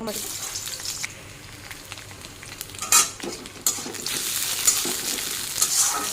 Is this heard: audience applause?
no